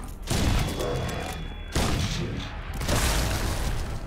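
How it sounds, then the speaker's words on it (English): Dense, loud rumbling blasts of grenade explosions in a video game, overlapping booms filling a few seconds with a sharp new burst midway. "It just takes 5 grenades and 1 missile to kill the big guy."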